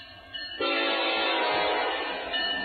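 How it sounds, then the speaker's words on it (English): An empty BNSF coal hopper train heading back to Wyoming sounds a sustained, loud horn blast over a low rumble, the tone starting abruptly and holding for about two seconds. "Empty coal train going back to Wyoming to be reloaded."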